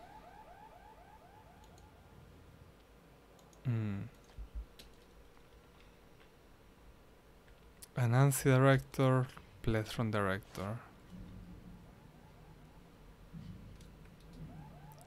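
An alarm going off in the game Secret World Legends, with a faint repeating electronic tone beneath the scene and a few louder warbling pulses, under someone talking.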